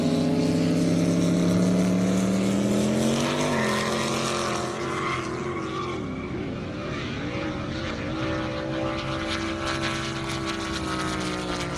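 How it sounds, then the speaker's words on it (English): A 2,000-horsepower drag race car at an airstrip racing event launches with a loud, high engine drone. The pitch wavers and warbles as the traction control fights the power, then settles into a sustained roar that fades slightly. "You can hear the traction control just getting tortured."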